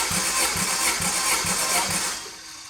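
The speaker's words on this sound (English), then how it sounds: "It took a little bit of cranking to get it up." A Toyota 20R engine cranks over on the starter during a compression test, with about five even, rhythmic compression pulses before it slows and stops. It is close and steady, and no one speaks.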